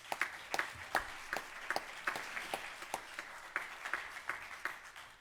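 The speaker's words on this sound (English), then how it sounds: "I think that deserves at least one more round of applause" A modest round of applause at a committee meeting, a few dozen people clapping steadily in a room, moderately close and unaccompanied by speech.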